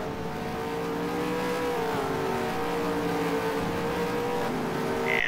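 Race cars at speed in a racing video game at Hidden Valley Raceway, heard as a steady, droning engine whine that holds close and loud throughout, with a brief brighter burst at the very end.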